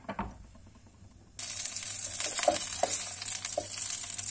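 Carrots hit a few spoonfuls of hot oil in a pan, bursting into a loud continuous sizzle after a quieter opening with a few clicks, with faint stirring scrapes.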